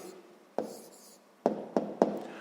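A pen writing an answer by hand on paper during a sixth-grade maths exercise: a soft scratching bed broken by four sharp, close strokes or taps, one early and three in quick succession near the end.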